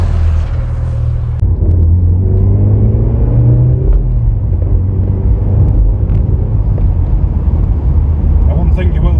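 The engine of a 2006 Mazda MX5 sports car drones loudly while driving in fourth gear at about 40 mph, a steady, rumbling cabin roar whose tone shifts slightly as the car moves along.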